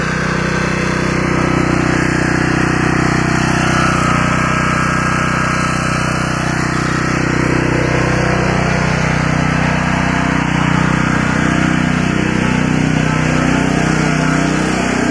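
A 1999 Generac 4000XL generator engine drones loudly and close with the gas turned off, holding a steady roar that wavers slightly in pitch throughout, with no speech.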